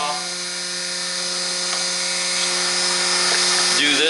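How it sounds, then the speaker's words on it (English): A saw blade cuts through 300 Blackout brass cases, giving a steady, high-pitched mechanical whine for about four seconds that shifts in tone near the end. The sound is close and continuous. "Toss your brass in, snug her down, cut her off."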